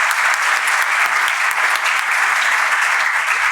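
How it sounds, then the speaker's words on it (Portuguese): Audience applause at a business summit on marketing and trading, a dense, steady clapping from a crowd lasting the whole moment, with no voices on top. "Palmas para vocês."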